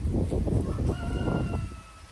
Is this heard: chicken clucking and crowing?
yes